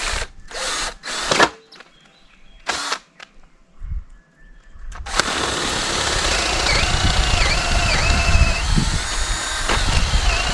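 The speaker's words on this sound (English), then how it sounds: "These are 5/8 gate anchors, and I've got a 9/16 drill bit." A power drill fitted with a 9/16 bit bores into a hard locust wood stake, with a few short bursts of drilling followed by a long, loud, continuous whine that rises and dips under load.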